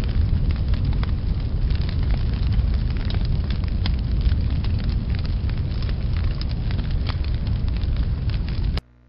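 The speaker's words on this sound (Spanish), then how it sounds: "Es como tipo de una fogata." Campfire sound effect played back as a downloaded file: steady dense crackling and low roar of burning wood with scattered sharp pops, continuous and fairly loud, cutting off abruptly at the end.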